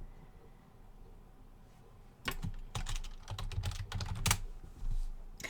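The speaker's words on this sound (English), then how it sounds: "You can hear the clicking of my computer." Typing on a computer keyboard, first quiet and then bursts of close, crisp key clicks in quick irregular runs.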